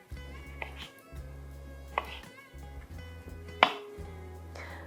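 A knife cuts cherry tomatoes (pomodorini) on a board as focaccia toppings are prepared, giving a few sharp, well-spaced taps over a steady low background hum.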